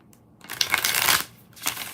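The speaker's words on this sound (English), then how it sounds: "4 shuffles for Babina." Tarot cards are shuffled by hand in one quick riffling burst of papery flicks, followed by a brief softer shuffle, close and alone.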